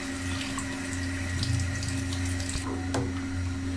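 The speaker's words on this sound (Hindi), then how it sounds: "अब हम इसमें तकरीबन 1 जग पानी और ऐड करना है।" A jug of water being poured into a pot of kadhi on the stove, a steady continuous splashing rush with a faint hum underneath.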